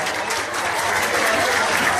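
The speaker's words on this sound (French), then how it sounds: "Vous pouvez applaudir nos 40 compétiteurs." A crowd at a North Sea shrimp-peeling world championship in Leffrinckoucke applauds the 40 competitors, with thick, continuous clapping filling the full two seconds.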